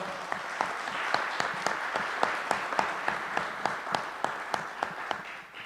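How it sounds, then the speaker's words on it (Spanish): An audience at a book presentation event applauds steadily, a sustained bed of clapping with one nearby clapper's sharp, evenly spaced claps standing out close to the microphone. "a quien le pido un fuerte aplauso"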